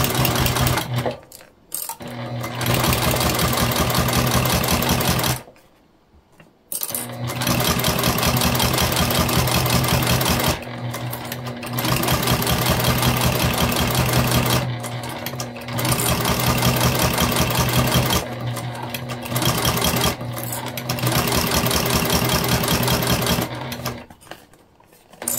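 A sewing machine stitches a clear jelly vinyl hip bag, running in long steady bursts of close, loud whirring broken by short pauses and one longer stop.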